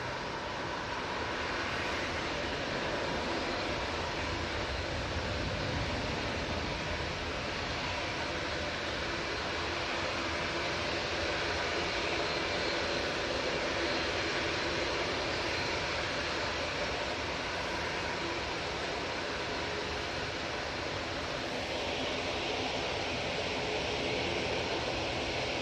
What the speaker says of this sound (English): And Ryanair 737 now going out.